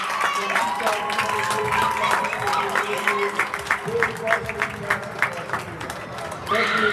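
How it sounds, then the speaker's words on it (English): Audience applause at a high school winter sports awards ceremony, a sustained spread of many hands clapping with some brisker individual claps and a swell near the end, voices mixed in. "please give another big round of applause"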